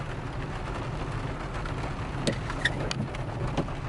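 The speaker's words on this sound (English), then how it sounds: "Guys, it's raining pretty good out here." Rain falls outdoors in a steady, dense hiss of drops, close and continuous, with a few sharper pattering taps standing out near the end and no talking.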